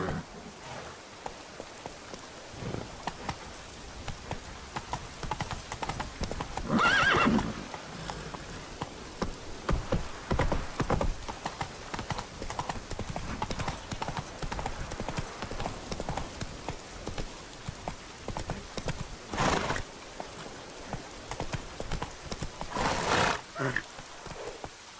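Roach the horse from The Witcher 3 gallops through misty rain at night with a fast, continuous clip-clop of hooves over steady rain, broken by a few louder whooshing bursts.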